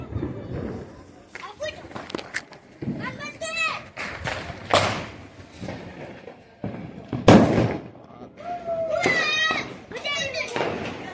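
Diwali firecrackers bursting outdoors, several sharp loud bangs with crackling tails spread across the clip, mixed with children shouting and playing nearby.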